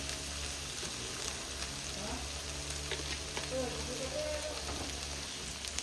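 Coconut milk and chili paste stir-frying in oil, a soft steady sizzle with light stirring scrapes, faint and fairly distant, with someone talking quietly over it.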